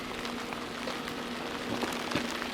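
Rain falls steadily outdoors behind a house by a pool, a close, continuous patter of drops striking surfaces, with no voices.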